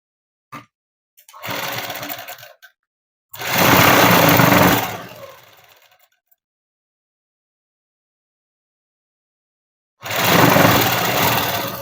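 A sewing machine stitches a dress for a six-to-seven-year-old child, sewn from a saree, in three separate bursts: a short one, a longer steady run, then a long silent pause before the motor starts again.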